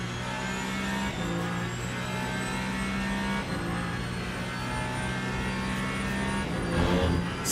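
Race car engine in Le Mans Ultimate at Spa, droning steadily at high revs throughout with a brief lift and re-rise in pitch, loud and continuous with no talk.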